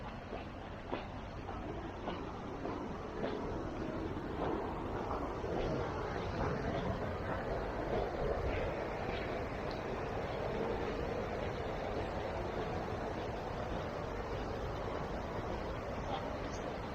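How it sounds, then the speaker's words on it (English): Steady broadband rush of water pouring over a weir on the River Thames, continuous and fairly close, a dense even roar with no pauses and no voices. "That's a beautiful sound, that is, isn't it? That weir."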